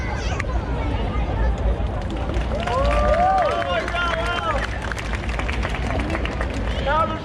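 Audience clapping and cheering at a chainsaw juggling street show in Darling Harbour, Sydney, rising in a short burst amid steady crowd babble and outdoor noise, with a performer's voice shouting over it.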